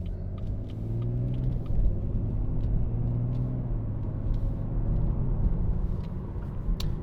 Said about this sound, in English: You can feel there's a bit of tyre noise, as you'd expect